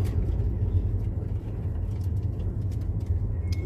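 A car runs in cold, icy weather, its engine giving a low, steady rumble heard from inside with faint rattles and clicks over the drone.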